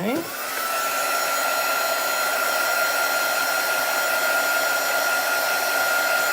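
A hair dryer drying chalk paste on a craft tray piece switches on and then blows in a loud, steady whine that runs alone to the end.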